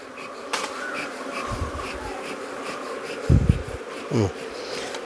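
Steady buzzing of many honeybees from an opened hive hums throughout, with a few louder thumps and rustles close by; no voices.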